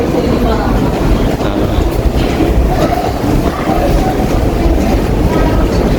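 A London Underground Northern Line train rumbles loudly and continuously from inside the carriage, a dense roar of wheels on track with faint rhythmic clatter and no clear breaks.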